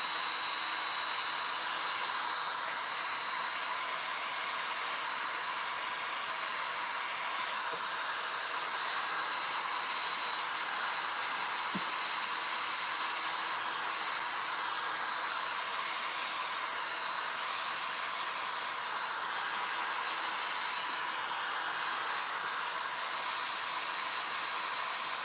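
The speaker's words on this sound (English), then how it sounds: "And then you'll go ahead and apply that hair dryer heat." A steady, even rush of blown air runs unbroken throughout, like a hair dryer held close and running continuously.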